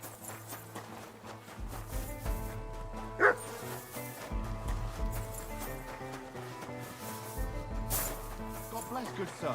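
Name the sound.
dog barking in the Kingdom Come: Deliverance II video game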